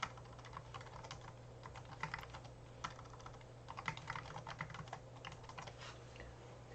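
Quiet tapping on a computer keyboard as a new folder name is typed, a run of light irregular keystrokes over a low steady hum.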